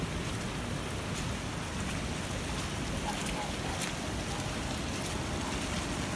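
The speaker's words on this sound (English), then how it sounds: "I wish it wasn't raining. Well, it's only spitting" Light rain falls in local woods, a steady soft hiss of drizzle with faint spitting patter, heard alone and evenly throughout with no voices.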